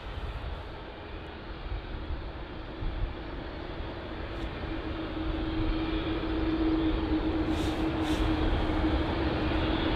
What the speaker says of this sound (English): So we've got a couple of aircraft using runway 27 left for arrivals